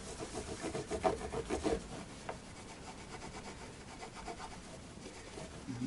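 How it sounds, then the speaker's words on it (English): A cloth rubs back and forth across a Fender Jaguar guitar's fingerboard and frets, wiping off cleaner in quick, soft scrubbing strokes that fade to quiet, faint and close. "this gets any grease off the fingerboard, but it also helps me get the any residual marker pen off the frets if I woggle from side to side a bit"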